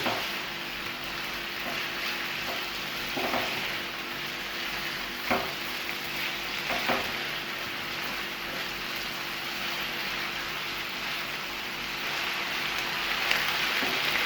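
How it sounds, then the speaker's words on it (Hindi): Chicken with garlic paste fries in a pan, giving a steady, even sizzle that lasts throughout, with a few faint clicks of stirring. No one talks. "मिक्स करेंगे और फ्राई करेंगे तकरीबन 1 मिनट के लिए।"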